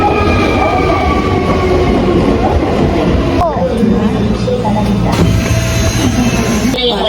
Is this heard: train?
yes